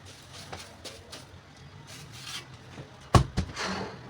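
A wet cloth wipes a ceiling fan in soft, repeated rubbing strokes, then a couple of sharper knocks near the end, close and quiet with no talk.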